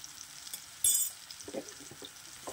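Chopped eggplant with turmeric and salt fries in a pan with a faint, soft sizzle, broken by a brief louder crackle and a few small stirring scrapes.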